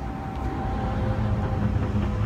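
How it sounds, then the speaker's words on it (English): Heavy trucks rumble past nearby in a steady, continuous low drone with a faint engine whine running through it, loud and unbroken throughout. "Big trucks."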